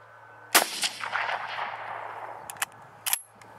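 A Lee Enfield No.1 Mk III .303 rifle fires outdoors at bottle targets, one loud sharp shot with a long decaying roar, followed by two smaller sharp bangs, with no speech.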